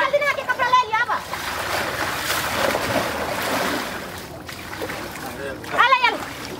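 Water splashes and sloshes as someone takes a dip while bathing outdoors on Makar Sankranti, with bursts of splashing under excited voices and someone talking over it.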